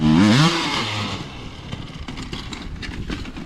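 A motorcycle engine revs sharply in a rising whine, then drops back to a rattling, uneven idle close by.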